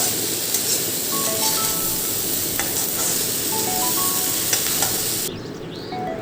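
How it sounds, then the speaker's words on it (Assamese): Boiled chicken and potatoes being stirred in a hot pan give a steady, close sizzle with intermittent scraping, running alone without speech before dropping slightly near the end. "এনেদৰে বইল চিকেনখিনিত আলু দি দিছোঁ মই আৰু এনেদৰে লৰাই আছোঁ"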